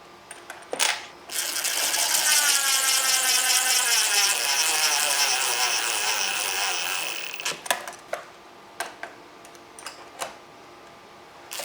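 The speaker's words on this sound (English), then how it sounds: "I happen to have an electric screw gun here with a long extension and a Phillips end on it." An electric screw gun with a long extension and Phillips bit tightens stainless steel screws, whirring loudly and steadily with a rising pitch for several seconds, surrounded by scattered clicks and handling knocks.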